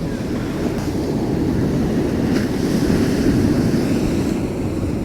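Steady wash of ocean surf rolling onto a beach at night, with wind buffeting the microphone throughout; a dense, continuous roar at constant loudness with no voices.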